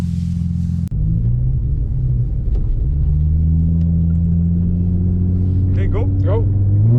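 After a brief shout, a remapped Nissan 350Z with test pipes fires up and pulls away. Its loud, deep exhaust rumbles steadily and its pitch climbs as it accelerates, with a few faint voices in the background.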